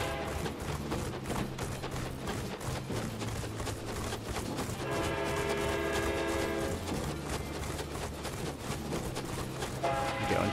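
A train stage in the brawler video game Bud Spencer & Terence Hill: Slaps and Beans, with a steady rhythmic rattle of rolling wheels under dense game music and effects, loud and continuous throughout.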